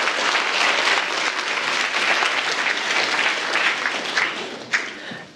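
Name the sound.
audience round of applause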